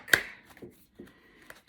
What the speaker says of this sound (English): Just going to do a quick shuffle